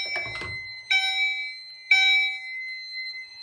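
Electronic beeping from a rate of rise heat detector alarm under test: a short burst of soft noise, then two bright tonal chirps about a second apart, each holding into a steady ringing tone.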